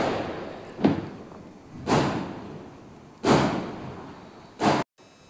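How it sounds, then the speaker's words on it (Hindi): Firecrackers burst outside during a Diwali puja: four muffled, distant thuds, spaced about a second apart, over a low background hum. "आपको साथ में सुनाई दे रहे होंगे पटाखों की आवाज़ बहुत ज़्यादा हो रही है"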